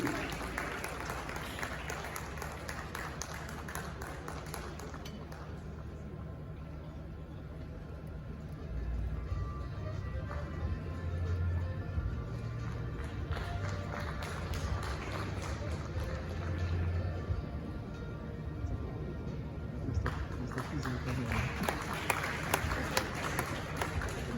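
Audience applause for a Crime and Court Reporting award winner at the 29th GJA Media Awards ceremony, a steady crowd-wide clapping that swells partway through and holds to the end, with indistinct voices mixed in.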